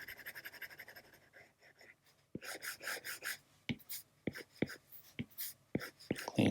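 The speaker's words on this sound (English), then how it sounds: "we're using a pencil and eraser" Pencil scratching and sketching on paper, with an eraser rubbing out lines, while drawing a cartoony character: quiet, close strokes in quick irregular bursts with a short pause before faster scribbling.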